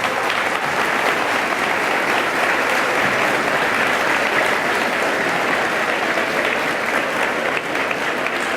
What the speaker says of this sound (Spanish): Y fuertes aplausos para Roberto Bonucci.